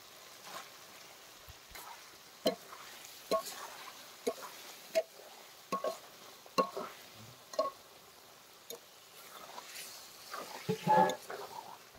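Chicken gizzards and liver frying with spices in a pan, a quiet sizzle broken by repeated scraping and clinking stirs at an uneven pace.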